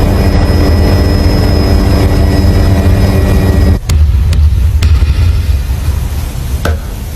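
An anime airship's engine drones as a loud, steady, dense roar with a faint high whine, broken near the middle and end by a few sharp clicks, with no voices.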